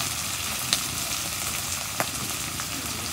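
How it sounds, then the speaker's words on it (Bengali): Chopped onion and dried red chili sizzling in hot oil in a pan, a steady broadband frying hiss with a couple of brief crackling pops, close and alone. "মশলাগুলো তেলের মধ্যে কষে নেব"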